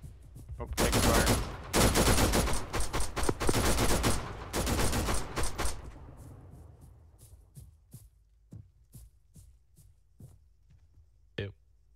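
Rapid automatic gunfire in Arma 3 rattles loudly in dense bursts for several seconds, then thins into scattered distant single shots, with voices talking over it.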